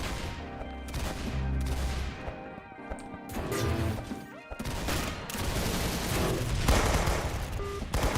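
Rapid bursts of gunfire from a shooter game rattle in dense volleys, with short breaks between the strings of shots. Sharp crashing impacts mix in, loud and close.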